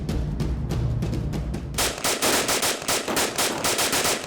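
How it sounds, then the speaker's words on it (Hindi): Machine gun fire in a staged crime-scene reenactment: a steady, close automatic burst of rapid shots, then a second run of sharper, separately spaced shots, loud and without voices. "गोलियों की आवाजें गूंजने लगीं"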